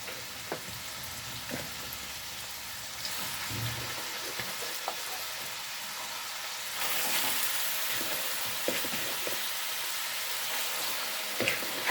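Meat and meaty bones hitting a hot pot for a Cape Malay carrot and pea stew, a broad steady sizzle that swells louder midway, with occasional stirring clicks and no talking.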